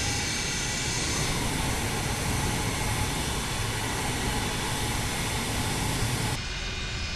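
Simulated MD-80 jet engines idling and taxiing in a flight simulator game, a loud steady broadband roar with a faint high whine, continuous throughout before dropping slightly near the end.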